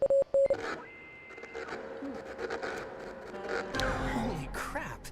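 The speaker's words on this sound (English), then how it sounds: "There's Morse code." Morse code on a tuned radio comes through as a few short, clear beeping tones at the start, followed by crackling static and shifting radio noise.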